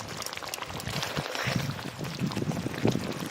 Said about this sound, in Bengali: বেগুনগুলো সিদ্ধ হয়ে গেছে, টমেটোগুলোও সিদ্ধ হয়ে গেছে।